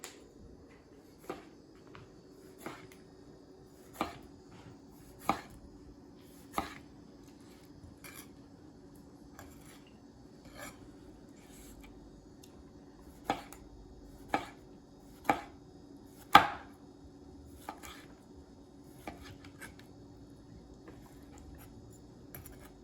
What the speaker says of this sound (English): I'm just gonna make nice thin slices